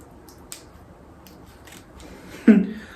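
Scissors cut ear holes in a lake blue 4x4 lace wig: a few faint ticks and rustles, then one sharp, close snip near the end.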